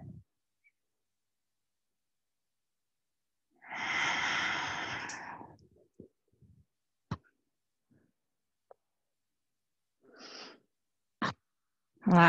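Breathing during a yoga flow: a long, audible exhale through the nose is followed by several short, sharp breaths and soft movement sounds in a quiet room.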